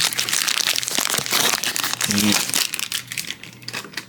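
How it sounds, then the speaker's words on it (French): A pack of collectible cards being torn open, loud close crinkling and crumpling of the foil wrapper throughout, with someone speaking French over the rustling. "On a un paquet ici. Donc, juste l'ouvrir rapidos."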